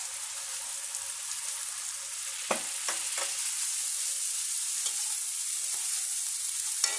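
Ground onion paste cooks with garlic and ginger in a pan, giving a continuous bright hiss with a few quick stirring scrapes midway, heard up close and without speech.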